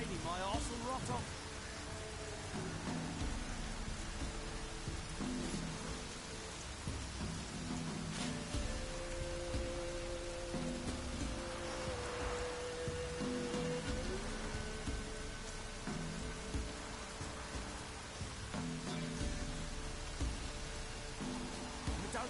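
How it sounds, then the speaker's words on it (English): Steady rain hiss from The Witcher game world, a continuous wash across the whole stretch, layered under low tonal music and ambient game sounds at moderate level. "If it don't stop raining, my arse will rot off."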